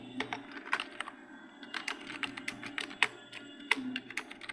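Urdu text is typed into MS Excel on a computer keyboard: rapid, irregular keystrokes, close and crisp, with no talking.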